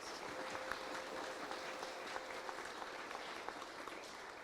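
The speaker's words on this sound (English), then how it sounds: "So a round of applause please for everybody involved." Crowd applause for the organisers of a children's election hustings, sustained dense clapping from a sizeable audience at even volume, no talking over it.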